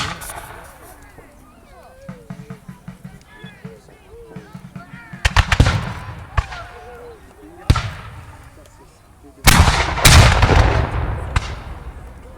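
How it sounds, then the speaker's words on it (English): Revolutionary War reenactment with a howitzer and muskets firing: several sharp, loud booms and cracks at irregular intervals, some close and echoing, with talk in between. "The howitzer fires canister shot or fires grape shot, and it's like a giant mortar that fires in a straight line,"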